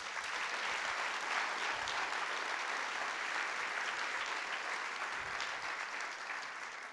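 Sustained audience applause fills a closing ceremony hall in Pau, a steady dense wash of clapping at even loudness throughout, with no voices rising above it.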